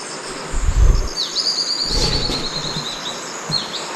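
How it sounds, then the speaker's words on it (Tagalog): Birds chirp and trill repeatedly in the open air, high and bright, with a few low thumps and rustles nearby. "ang ganda ng mga huni ng mga ibon"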